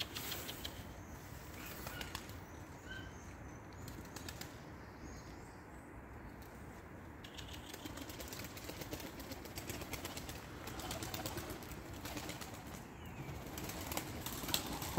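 Game pigeons in a coop flap their wings as they take off and flutter about, a faint, continuous rustling with soft intermittent flaps and no one talking.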